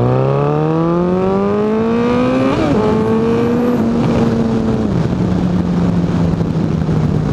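A 2014 Suzuki Hayabusa GSX1300R motorcycle, 25th anniversary edition, accelerates hard, its smooth engine note climbing steadily through the gears with brief dips at each shift, loud and close throughout without talk.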